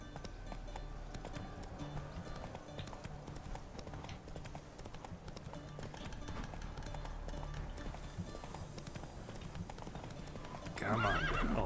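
Hooves clip-clop steadily as a horse runs in The Witcher-style open-world video game, with a whinny near the end, alone and close.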